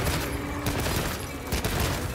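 Rapid gunfire and explosions from the video game Monster Hunter Wilds, with a gunner weapon firing a dense, loud burst of overlapping shots and booms, some blasts producing area-wide explosions.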